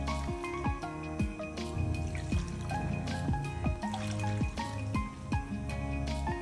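Water pours and trickles steadily into a cooking pot holding jackfruit and jackfruit seeds for boiling, with irregular drips and splashes over several seconds, close and clear.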